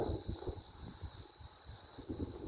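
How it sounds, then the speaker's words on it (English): Cicadas by the Mississippi River keep up a steady, dense high buzzing drone throughout, with light wind rumble and rustling underneath and no talking. "You hear the cicadas."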